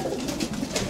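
Pigeons cooing softly in a breeding loft housing male birds, a brief, faint low murmur of coos with no voices.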